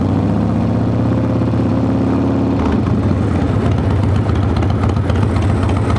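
Harley motorcycle fitted with a Lectron carburetor, warmed up and running at a steady low idle, a loud continuous throbbing rumble that shifts pitch slightly partway through, with no talking.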